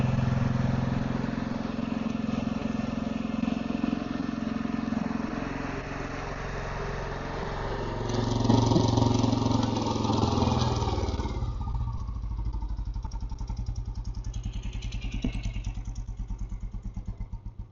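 A vintage Royal Enfield Bullet motorcycle engine runs close by after a long spell of kick-starting, loud and steady, settling into an even, rapid thumping beat toward the end.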